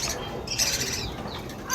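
Java sparrows in a breeding setup give sharp, scratchy squawks and chirps in a steady, busy stream, fairly close and loud throughout, with no voices.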